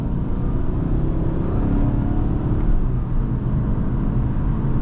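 A 2008 Infiniti M45 drives in manual shifting mode, its engine giving a loud, steady low rumble heard from inside the cabin, with no distinct gear change standing out.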